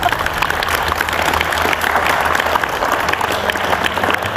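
A studio audience claps together in a sustained, dense burst of applause, loud and even from start to finish, with a low rumble of the room beneath and no talking.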